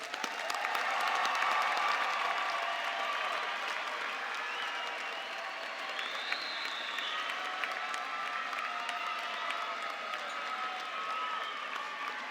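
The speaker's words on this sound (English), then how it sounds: "Please join me in giving these graduates a round of applause." A large audience applauds graduates at a university summer commencement ceremony, steady sustained clapping filling the hall throughout, with faint crowd murmur beneath and no speech over it.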